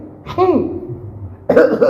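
A person mimics a sneeze with a sharp, exaggerated burst, pauses, then gives another forceful vocal outburst.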